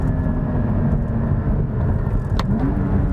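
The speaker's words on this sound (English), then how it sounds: "This car sounds amazing." A car engine roars steadily from inside while driving, loud and continuous with a brief rise in pitch near the end as it revs.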